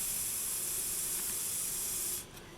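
A spray bottle of 99% alcohol mists onto polymer clay from a distance in one steady, close hissing burst lasting about two seconds, then it cuts off to quiet.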